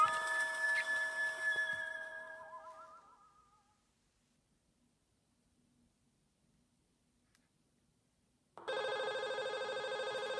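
Electronic telephone ringing in the horror video game Five Nights At Smudgers 3, a loud warbling ring that fades out over a few seconds, then near silence before another loud tonal ring starts abruptly.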